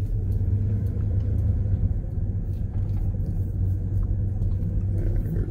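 Car driving slowly around the small seaside town of Avila Beach, California, heard from inside as a steady low engine and road rumble without pauses or talk.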